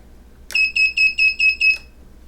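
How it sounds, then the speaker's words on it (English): A drone's electronic beeper on a Sidewinder build sounds six sharp, loud, high-pitched beeps in quick even rhythm, close by, ending abruptly. "Beeper works."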